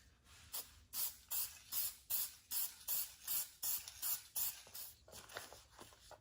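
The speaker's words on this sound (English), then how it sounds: "give it a clear coat spray before using it as decoupage paper" Repeated short bursts of aerosol clear coat spray onto paper, about a dozen hissing puffs in a steady rhythm, close by with quiet gaps between.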